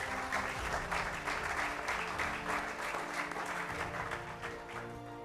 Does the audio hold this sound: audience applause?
yes